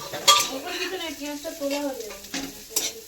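Onion fries in a pan in a home kitchen while a utensil stirs and scrapes against the metal, a close sizzle broken by sharp clinks and a few tonal scraping squeals.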